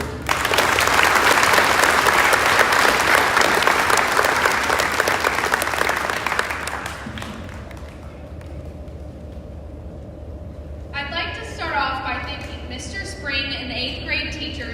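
Loud, sustained applause from an audience at a middle school promotion ceremony, steady clapping for about seven seconds before fading, after which a voice speaks over a quieter room.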